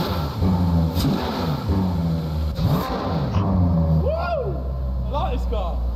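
A car engine in a video game revs loudly with rising and falling pitch and a steady rumble underneath, while a voice talks over it.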